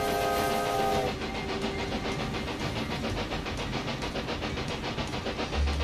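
A long passenger and mail train rolls steadily along in Railway Empire 2, a continuous rumbling run with rhythmic wheel clatter throughout, opening with a brief sustained whistle-like tone that fades after the first second.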